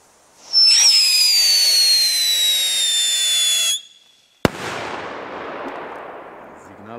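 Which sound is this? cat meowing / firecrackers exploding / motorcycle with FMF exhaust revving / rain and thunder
firecrackers exploding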